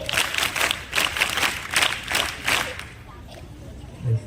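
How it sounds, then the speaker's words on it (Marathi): An audience at a school's January 26 Republic Day program, with students and scouts present, claps in a steady rhythm of loud bursts for nearly three seconds before fading into quieter murmur. "2 दादांसाठी टाळ्या"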